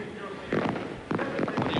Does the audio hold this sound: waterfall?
no